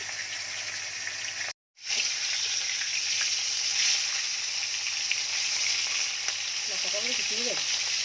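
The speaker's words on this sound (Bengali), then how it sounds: "তো মাছটা ভেজে নিই আমরা।" Hilsa fish frying in hot oil in a home kitchen, a steady loud sizzle that runs throughout, broken once by a brief cut, with faint voices underneath.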